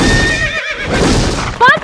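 A horse neighs at an equestrian academy in Chennai, a rising whinny cutting in near the end over a steady outdoor background.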